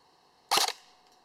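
A single shot from an ARES Amoeba S-Class M4 airsoft gun firing a 0.2 gram BB, with hop-up at zero, on a 9.6 volt stick battery: one short, sharp crack close by, followed by quiet.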